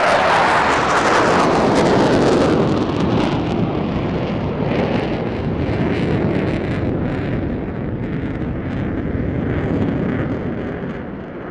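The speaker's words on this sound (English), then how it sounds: "Repositioning now for one more high-speed fly past." A display aircraft making a high-speed fly past at the Eastbourne International Airshow, a loud rushing jet roar that peaks early, then fades into a long rumbling wash, with no talk.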